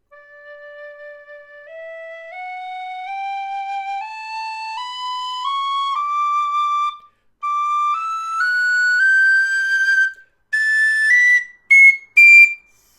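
Wild Irish high D tin whistle played alone, stepping up a scale note by note in clear, steady tones, climbing into a bright second octave with short breaks between the final higher notes.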